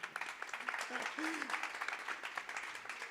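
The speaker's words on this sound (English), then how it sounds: "A big applause for David." Audience applause for David at an urban placemaking talk, brisk clapping with a voice speaking over it.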